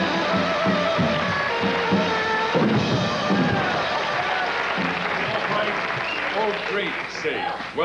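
A 1979 Tonight Show studio audience applauds and cheers for Carnac the Magnificent. The clapping is loud and sustained and blends with crowd voices before it fades slightly near the end.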